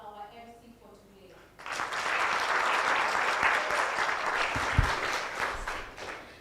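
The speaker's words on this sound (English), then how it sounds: "Could we kindly give a big round of applause for our MC for today?" A full audience breaks into sustained, loud applause for a master of ceremonies at a Kenyan community foundation event, the clapping swelling suddenly after a moment of quieter murmur and holding steady to the end.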